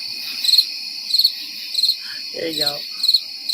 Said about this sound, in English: Crickets from the crowd